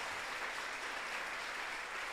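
Church congregation applauding the Lord, a steady wash of many hands clapping together at a distance, even and continuous, no distinct voices.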